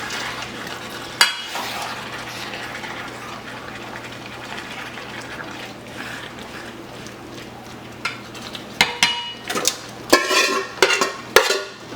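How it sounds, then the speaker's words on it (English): A spoon or spatula stirs Spanish-style beef stew (carne guisada) in a pot, with a soft continuous scraping and gentle sizzle, then several sharper knocks and clatters against the pot toward the end. "I'm gonna mix this thing well."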